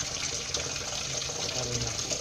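Tap water runs steadily into a kitchen sink to soak pork, a continuous close hiss and splash with no pauses.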